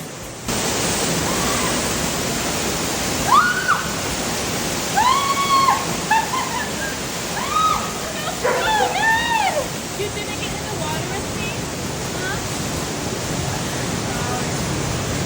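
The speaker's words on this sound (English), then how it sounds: "I think we're getting to the waterfall." Steady broadband rush of a waterfall in a tall desert canyon, continuous and close throughout, with a person's voice exclaiming over it at several points.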